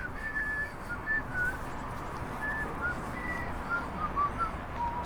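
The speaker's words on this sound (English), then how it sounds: "don't whistle while you're trying to film" A person whistles short, faint melodic notes close by while filming at a railway station with a footbridge on the Robin Hood Line near Worksop, the thin tones drifting over a steady background hiss.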